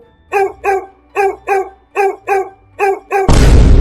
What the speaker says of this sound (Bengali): এদিকে গ্রামের কুকুরগুলো চেঁচিয়ে উঠল